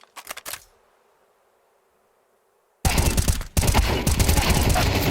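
Rapid gunfire from Counter-Strike 2 during a G2 vs B8 ESL Pro League match: a few soft clicks, a silent gap, then a loud, dense volley of shots lasting over two seconds.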